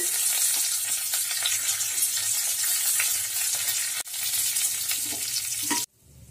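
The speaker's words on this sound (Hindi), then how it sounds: "इन सबको अच्छी तरह से रोस्ट होने के बाद इसमें हम थोड़ा सा करी पत्ता ये डालेंगे" Curry leaves and asafoetida fry in hot oil for a vegetable kadhi, giving a loud, steady, dense sizzle that continues without pause until it cuts off abruptly near the end.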